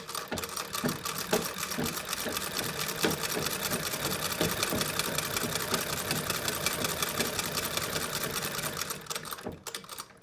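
A Singer Model 12 sewing machine runs in a steady, fast rhythmic clatter for about nine seconds before winding down and stopping, loud and close with no talking.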